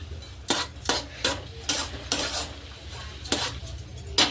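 A spoon stirs semolina shira in ghee in a pan, scraping and clinking against the metal in steady repeated strokes about twice a second, with a faint sizzle underneath.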